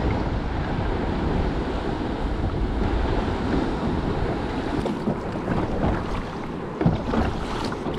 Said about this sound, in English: I want to see if I can show you these swells rolling in on these rocks.